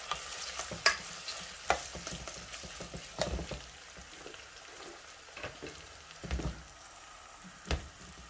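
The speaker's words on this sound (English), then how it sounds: "chopped onions. So I'll pop them in. Put that in. Give that a stir." Chopped onions sizzle softly in a pan and a spoon stirs them in occasional scrapes and knocks, close and moderately quiet, with no voices.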